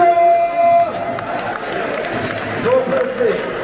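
A crowd in a football stadium applauds a substituted player during the Brest versus Rennes derby, with steady clapping and cheering under a public-address announcer's voice.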